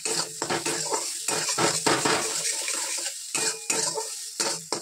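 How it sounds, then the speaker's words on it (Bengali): A spice paste of ground onion, garlic, chilli and cumin with garam masala is stir-fried in a pan, with repeated metal scraping strokes over a soft sizzle, close and fairly loud. "সেই মশলাটা কষিয়ে নিচ্ছি ভালো করে।"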